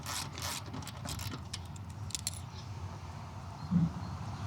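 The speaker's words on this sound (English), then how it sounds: "Just loosen this bolt here." A ratchet clicks in quick, faint bursts while loosening a fuel tank bolt on a Royal Enfield Meteor 350, and the ratcheting gives way to a soft metallic clunk near the end.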